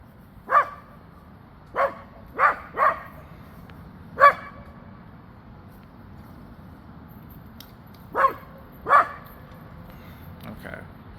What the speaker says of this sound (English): He's barking at people every time they go down by the fence.